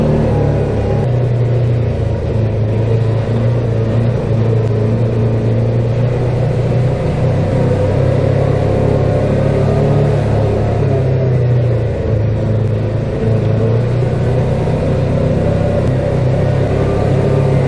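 Side-by-side UTV in four-wheel drive low range pushing through mud holes near Elgin, New Brunswick: a steady, loud, close engine drone with slight revving swells throughout.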